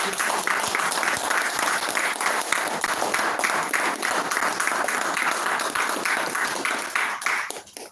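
Steady round of applause from Toastmasters club members honoring their educational speaker, many hands clapping densely and loudly without pause, fading slightly at the very end.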